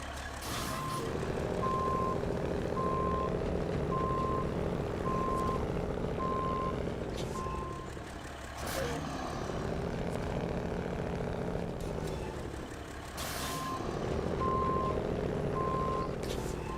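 A truck in a snow driving video game reverses with a steady, evenly spaced backup beeper over a droning engine that rises and falls, with a few sharp clunks between stretches.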